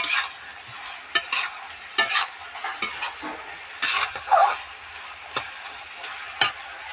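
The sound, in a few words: stir-frying vegetable curry with chilli and ginger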